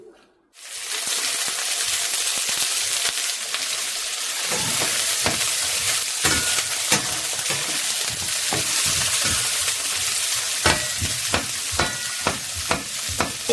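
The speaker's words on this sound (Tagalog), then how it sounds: "magigisa na ako" After a brief silence, onions hit a hot pan and begin sautéing with a continuous crackling sizzle, punctuated by frequent scraping and tapping of a utensil stirring them, close and steady.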